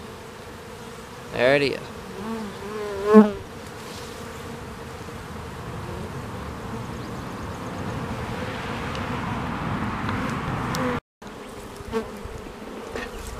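A small swarm of honeybees buzzes steadily and close, with a few louder passes as single bees fly near. Someone speaks briefly.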